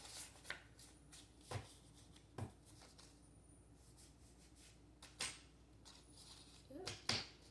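A deck of tarot cards is shuffled quietly at close range in soft, sporadic brushes and snaps with short pauses between them, over a faint background hiss.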